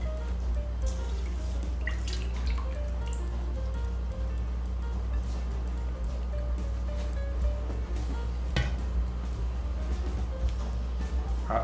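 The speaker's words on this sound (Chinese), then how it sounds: "再把它洗干净，好，再把水分抓干。" Cabbage being rinsed and squeezed in water while making Taiwanese-style sweet and sour pickled cabbage, with steady soft dripping and sloshing close by under a constant low background hum.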